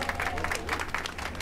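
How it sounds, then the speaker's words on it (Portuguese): Audience breaking into applause, a brief, dense burst of clapping from a crowd. "Palmas, por favor."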